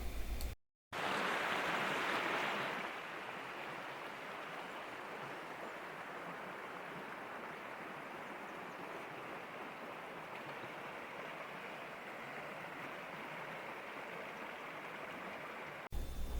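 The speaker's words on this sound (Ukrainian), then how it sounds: "Рухались ми так під зуркотіння цього струмочка." Murmuring Stohivets mountain stream in the rugged Marmarosy forest, a steady broadband rush of flowing water throughout, close and continuous, with no talk.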